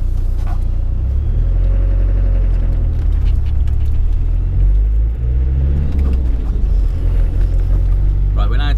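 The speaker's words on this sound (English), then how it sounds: "up to 2000 RPM, and then I'm going to deck the throttle, and then I'm going to back off and coast" Four-wheel-drive vehicle engine on a dynamometer at full throttle, a loud continuous low rumble and roar held close to the microphone for the whole stretch, with someone talking over it.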